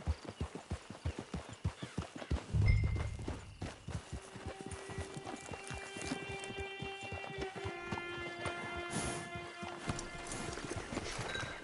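Horse hooves clip-clop steadily in a PS4 video game, a clear rhythmic walking gait close by that slows and fades as the horse is brought to a stop, with a brief whinny-like tone and game music underneath.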